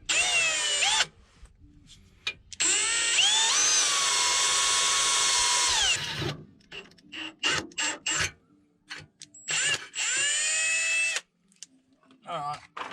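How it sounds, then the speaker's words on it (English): A power drill whines in long sustained bursts, drilling a hole upward, stopping and restarting several times, with short pauses and brief handling noises between runs. "I'm just going to drill it next to this original hole."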